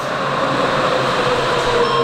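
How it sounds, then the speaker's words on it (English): A steady rumbling roar of an approaching train builds at a station in Sapporo, with a constant low hum and faint high-pitched squeal, no voices. "I can already hear the train coming"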